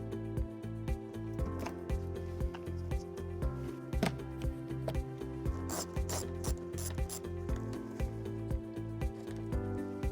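A hand ratchet removes the 8mm underbody panel fasteners on a 2013-2019 Ford Fusion, making quick, even, rhythmic clicking bursts close by, with faint rubbing and mechanical rattles and no voices.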